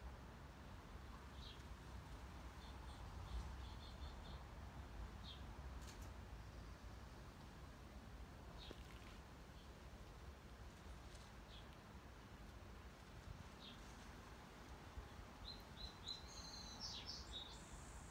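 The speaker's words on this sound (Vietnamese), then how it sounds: "Tiếng chim chim kêu đó các bạn, chim kêu ở trong vườn á." Garden birds chirp and tweet in scattered short calls throughout, some nearer and some farther off, over a faint steady background hiss outdoors.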